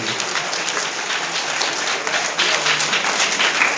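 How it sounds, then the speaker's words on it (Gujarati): A crowd applauds steadily at a school enrollment festival for children, dense clapping throughout, growing slightly louder toward the end. "તાળીઓ તો પાડી ને એના માટે"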